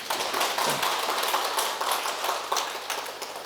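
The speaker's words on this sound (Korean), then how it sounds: "박수 한번 보내드리죠." Lecture audience at a Buddhist college class in Chuncheon claps for a monk's song, a dense patter of hands with sharper individual claps standing out, moderately loud and continuous.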